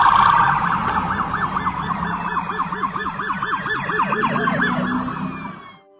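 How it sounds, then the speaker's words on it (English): Police or sheriff's deputy car sirens wail loudly and close, several overlapping up-and-down tones cycling together before fading out at the end. "those police sirens or deputy sirens that you hear right there"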